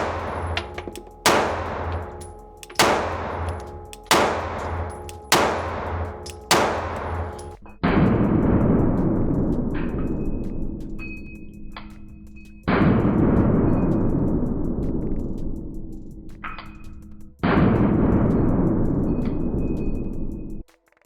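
Staccato pistols fired at an outdoor range from 21 feet with iron sights: six sharp shots in fairly quick succession, then three louder, booming reports spaced several seconds apart, each with a long ringing decay.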